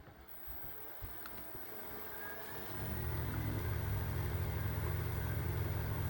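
A wood lathe spinning a piece of wood at about 1200 RPM: quiet at first, then the motor spins up after a few seconds into a steady, low, even hum that stays constant.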